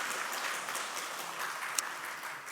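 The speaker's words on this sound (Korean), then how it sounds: "박수로 우리 환영하겠습니다." Church congregation clapping together during a Sunday worship service to welcome someone, a dense, even patter of applause from many hands throughout.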